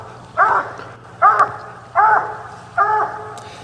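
A dog barks four times at an even pace during a UKC Tournament of Champions final round, each a loud, clear bow-wow close by, with brief quiet gaps between them.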